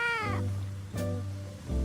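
A cat lets out a few short, close meows in quick succession, clear and fairly quiet, with no other voices.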